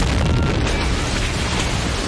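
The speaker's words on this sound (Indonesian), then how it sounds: "Miller dan Ryan yang kehabisan peluru berusaha menyerang dengan bom." A bomb explosion in a World War II war film, a loud, dense, rumbling blast that fills the whole two seconds with heavy low-end roar and debris noise.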